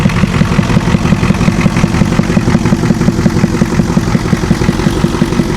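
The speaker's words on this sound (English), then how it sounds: "Yeah, it's a tractor diesel." A 7.3 IDI tractor-style diesel engine runs steadily at close range, a loud, continuous rhythmic clatter and chug that fills the scene without pause.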